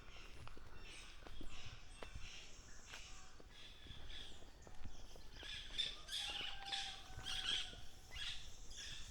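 Parrots squawk and chirp in short, scattered calls around a Jamaican backyard farm, fairly distant and faint, with occasional footsteps and a soft outdoor background.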